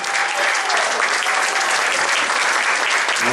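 An audience at a school concert applauds the beginning Cobra Band, trombones and basses included: loud, dense, sustained clapping filling the hall without a break.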